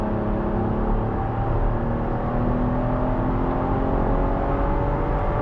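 Steady, loud engine drone from inside a Chevy Blazer RS accelerating onto a highway, its pitch climbing slowly under road and wind noise.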